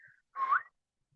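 A single short human whistle, given as a signal imitating the call of a small owl (tecolotito), rises briefly in pitch and stands alone in near silence.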